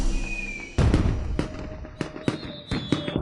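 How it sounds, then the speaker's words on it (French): Fireworks burst over a capital city in a series of sharp, loud cracks and pops, some close together, fading between bangs, with no talk. "Qui peut bien tirer des feux d'artifice dans la capitale?"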